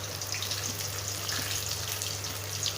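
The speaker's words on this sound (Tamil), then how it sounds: "எண்ணெயில் நல்லா பொரியட்டும் கொஞ்சம் நேரம்" Raw banana slices frying in oil for a poriyal, a steady, dense hiss of bubbling oil with a low hum beneath, even and continuous at close range, no talking.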